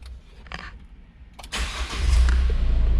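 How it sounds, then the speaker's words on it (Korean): A Hyundai Porter 2 truck engine starts by push button. The starter cranks briefly and the engine catches, settling into a steady, loud, close idle with no one talking. "엔진을 눌러주면 이렇게 시동이 걸립니다"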